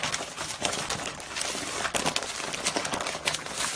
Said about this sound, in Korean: 이런 식으로 신문지에 말아서